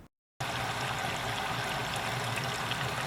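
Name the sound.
compact dishwasher filling with water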